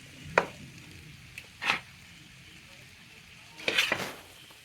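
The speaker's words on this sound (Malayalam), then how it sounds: "ഇനി ഇതെല്ലാം നമുക്ക് മിക്സ് ചെയ്യാം. ഓക്കെ, ഇതിലേക്ക് ചോറിട്ടിട്ട് നല്ല മിക്സ് ചെയ്യാം." Cooked rice is mixed into masala in a pan, heard as a few separate scrapes and clinks of a spoon against the pan over a faint background hiss, with quiet gaps between the strokes.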